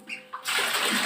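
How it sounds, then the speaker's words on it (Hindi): Water rushes from a just-opened tap feeding an instant gas water heater under repair, a loud steady close hiss that starts abruptly after faint clicks. "ये मैंने पानी का नल खोल दिया।"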